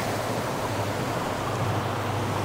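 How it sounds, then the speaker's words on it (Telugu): A steady, unbroken roar of rushing water from Dudhsagar Falls in Goa fills the air, loud and constant, close by. "వాటర్ సౌండ్ చాలా పీస్ఫుల్గా ఉంది"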